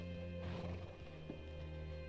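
A horse in the video game Red Dead Redemption 2, a brief snort and whinny with light hoof movement heard faintly over a steady humming game background.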